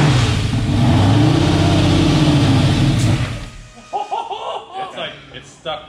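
A supercharged 10.3-liter big block engine roars loudly at high revs, then drops off as people laugh and exclaim close by over its rougher running.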